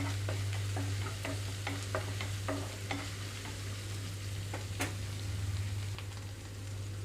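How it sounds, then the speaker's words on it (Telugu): Onions frying with ginger-garlic paste over a medium flame for a tindora fry, a soft continuous sizzle with a series of light spatula taps and stirring clicks close by. "థర్టీ సెకండ్స్ పాటు ఇవి కొంచెం మీడియం ఫ్లేమ్లో ఉంచి వేయించుకుంటున్నాను"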